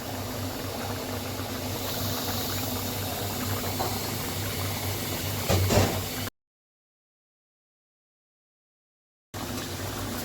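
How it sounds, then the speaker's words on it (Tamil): Chicken gravy boils in a pot with a steady, close bubbling hiss that runs unbroken, cuts out completely for about three seconds, then resumes. "இப்போ வந்து கிரேவி நல்லா கொதிக்க ஆரம்பிச்சிருச்சு"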